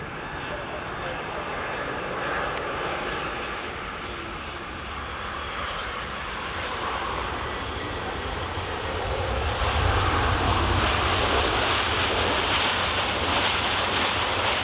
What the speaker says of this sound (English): here's our next Ryanair coming in